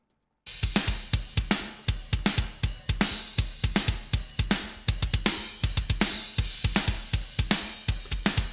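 A mixed metal drum track in the New Wave of British Heavy Metal style plays solo, with fast, tight repeated kick and snare hits and bright cymbals in a steady driving rhythm.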